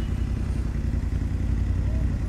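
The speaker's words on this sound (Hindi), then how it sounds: "I'm riding on a BMW bike." A BMW F900GSA motorcycle is ridden, giving a steady low engine rumble mixed with wind noise. It continues at an even level throughout.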